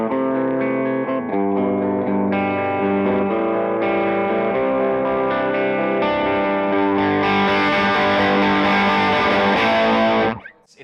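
A Matchless Avalon tube amplifier cranked to its hottest setting pushes an overdriven electric guitar through sustained, dense distorted chords with rich harmonics, loud and continuous for about ten seconds before cutting off abruptly.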